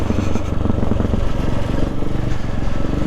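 The engine of a KTM 690 Enduro R motorcycle rumbles steadily and loud under the rider while riding, with a continuous throbbing drone and some clatter.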